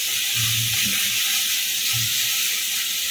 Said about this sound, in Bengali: টমেটোটা যতক্ষণ না নরম হয়ে যায় ততক্ষণ আমি এটাকে কষাতে থাকি